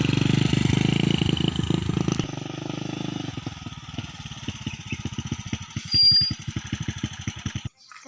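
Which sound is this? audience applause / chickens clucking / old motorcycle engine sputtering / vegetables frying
old motorcycle engine sputtering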